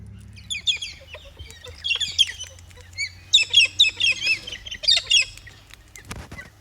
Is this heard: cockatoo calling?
yes